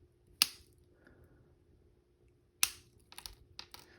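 Wire cutters snip the wire ends of a square-wire wrapped pendant, two sharp close clicks a couple of seconds apart, followed by a few lighter ticking handling sounds.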